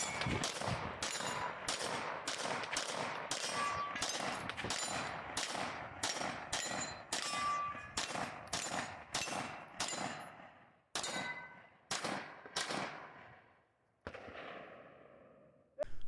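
Rapid gunshots at a practical shooting match stage, about twenty sharp reports in quick strings with metallic ring-outs, fairly close, slowing to a few spaced shots near the end, with no talking.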